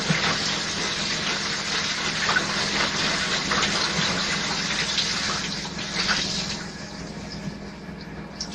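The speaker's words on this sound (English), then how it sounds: "The bathroom. Water pipes" Water rushing through bathroom pipes: a steady, loud hissing flow that runs on for several seconds, then eases slightly toward the end, with no voices.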